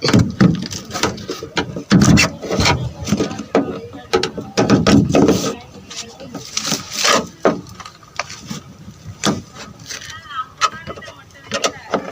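A ratchet tool unscrews parts on a vehicle in a mechanic's workshop, giving a steady run of close, rapid clicking and metallic clatter while people talk over it.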